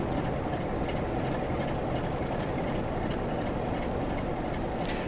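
Night Mail train in Train Sim World 4 rolling past as a steady, dense rumble of wheels and engine, constant and loud throughout with no speech.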